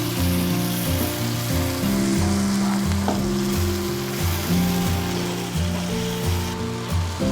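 Ground chili fries in a pan for homemade tteokbokki, a loud, continuous sizzle and crackle with a steady low hum underneath and no voices.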